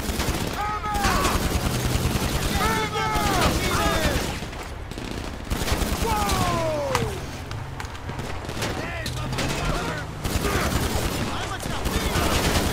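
In a casino heist video game, enemies keep shooting in dense, sustained bursts of gunfire, loud and continuous over a cluttered game backdrop with voices and whooshing effects mixed in.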